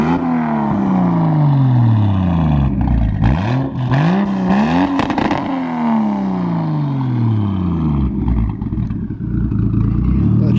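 A Toyota Supra fitted with a Tomei exhaust revs hard several times up close, the engine pitch sweeping up and down in loud repeated bursts before settling back to idle, with people talking nearby.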